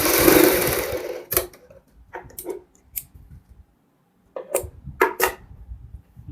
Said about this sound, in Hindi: वहाँ पे एक सिलाई लगाएंगे।